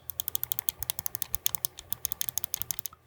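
Buttons on QRD T3 Joy-Con controllers tapped rapidly, producing a dense, evenly paced string of crisp, close clicks that ends in a brief pause, with no voices.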